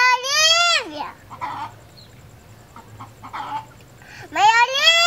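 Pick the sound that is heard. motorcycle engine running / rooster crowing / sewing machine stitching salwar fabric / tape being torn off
rooster crowing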